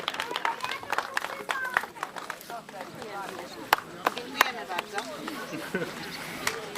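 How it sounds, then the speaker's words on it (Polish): An outdoor village festival crowd claps for a performer in a busy, uneven patter of many hands, with sharper individual claps standing out. Voices and background chatter run underneath. "Proszę o brawa."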